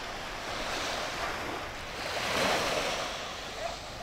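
Ocean waves breaking in a continuous soft wash, with a gentle surge midway and some wind rumble, fairly faint and distant, with no voices.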